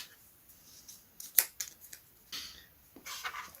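Intermittent snips and crisp clicks of scissors or a blade cutting through a model plane fuselage for an air scoop, a few sharp short bursts close by in a quiet room.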